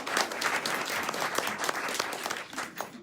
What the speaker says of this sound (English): Let's give Penny a round of applause.